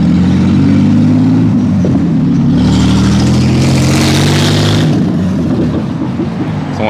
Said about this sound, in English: Someone needs a new muffler.